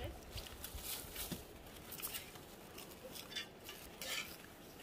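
Metal forks and cutlery clinking against dishes at a meal of fried fish, light scattered clicks and taps at low volume amid general kitchen clatter and nearby conversation.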